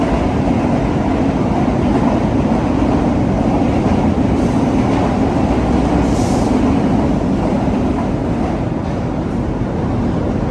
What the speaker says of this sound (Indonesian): Kereta api Ketel Bitmakola Tanker dari stasiun Malang Kota Lama, tujuan akhir stasiun Benteng di kota Surabaya ya